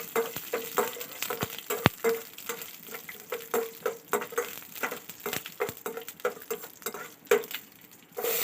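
Onion and seasonings fry in a hot pan, a close crackle and patter with regular stirring taps against the pan, steady throughout.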